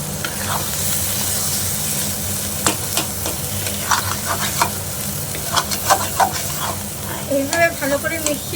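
Tomato dorma with a squeeze of lemon juice is stirred and mixed in a pan over low heat, giving a constant sizzle and frequent close scraping and clattering strokes of the spoon.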